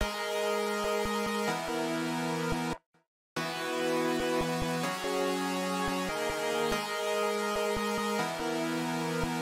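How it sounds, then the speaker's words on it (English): Synth chord progression processed with Filter Freak, Gross Beat and Crystallizer effects, sustained chords with rhythmic gated stutters and a short silent gap, played alone without voices. "We started this whole thing off with the synth progression"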